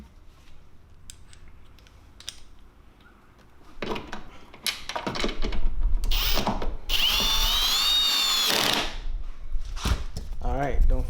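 Cordless power drill driving screws into a Maserati Ghibli backup light housing, several short whirring bursts followed by a longer sustained whine, close by, with soft handling noises and quiet talk.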